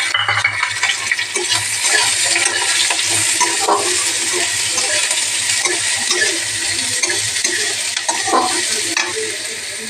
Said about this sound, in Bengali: আমি পেঁয়াজটাকে ভেজে নেব লাল লাল করে।